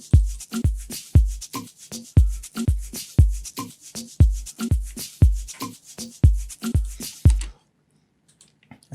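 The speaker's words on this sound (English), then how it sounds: "And then I added a shaker loop" A shaker loop from an FL Studio sample pack for an Afro house beat plays alone, loud and close, as a steady train of crisp rhythmic hits about every half second for roughly seven seconds, then cuts off to near silence.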